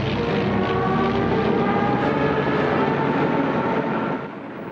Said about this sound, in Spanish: Sus cazas y bombarderos acaban con toda oposición.